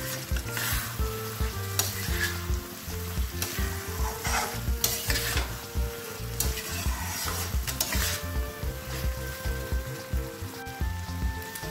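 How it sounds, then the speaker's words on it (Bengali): Prawns stirred into a sizzling Chettinad masala curry, with a steady close fry and repeated rhythmic scraping of a spoon against the pan throughout, without any talking. "এবারে আমি দিয়ে দেবো ওই চিংড়ি মাছটা, খুব ভালো করে মিশিয়ে নিচ্ছে চিংড়ি মাছটা"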